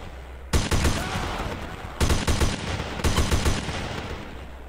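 Three bursts of rapid gunfire from a World War II shooter game, each a loud, dense volley of shots separated by short gaps, with no talking over them.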